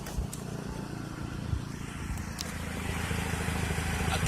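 Mazda car exhaust with a hole in the pipe, a low, rough, puttering drone with crackly pulses, growing slightly louder over a few seconds, close to the microphone.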